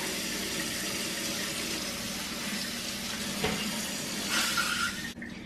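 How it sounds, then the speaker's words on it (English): Hot water runs from a kitchen tap in a steady, hissing stream, continuous for several seconds with a brief clatter near the end. "get hot water and bring it under there so that it warms up"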